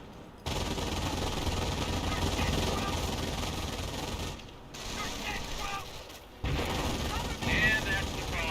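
A Company of Heroes battle in which a base machine-gun bunker hammers out continuous rattling bursts while rifles fire away alongside, the clatter briefly easing twice before resuming with distant impacts and mechanical noise.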